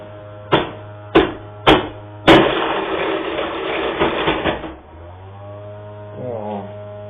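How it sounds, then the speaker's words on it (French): Game console making a loud mechanical noise: four sharp clicks or knocks, then a sustained grinding, whirring burst for about two seconds before it stops, leaving a low hum. "Attendez, le bruit de ma console"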